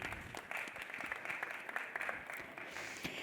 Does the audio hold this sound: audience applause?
yes